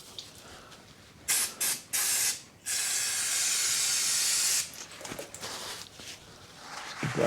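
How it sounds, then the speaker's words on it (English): Brake and clutch cleaner aerosol sprays as a degreaser during an oil and filter change on a 2012 Ford Fiesta 1.2 Zetec petrol: a few short hissing bursts, then one long steady spray, close up, followed by softer handling noises. "I've got some brake and clutch cleaner, which"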